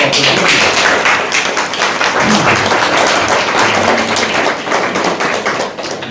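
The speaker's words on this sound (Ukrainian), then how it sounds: "Давайте одне одному аплодуємо." A theatre audience at a chamber theatre celebration applauds one another, a loud, dense, sustained wash of clapping filling the room throughout.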